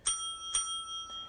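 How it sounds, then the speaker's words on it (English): A debate timer bell rings three times to signal time is up, each strike bright and ringing with a sustained metallic tone; the last strike is softer. "When your time is up, you'll hear this bell."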